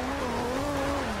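A 2JZ-powered Supra drifting sideways in Forza Horizon 2, with a steady engine drone and a slowly falling pitch held for about a second, loud and continuous with no voices.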